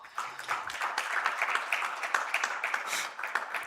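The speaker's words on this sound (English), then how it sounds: "A round of applause." A seminar audience on housing research gives a round of applause, a busy crackling patter of many hands held fairly steady for several seconds, heard from across the room without anyone speaking.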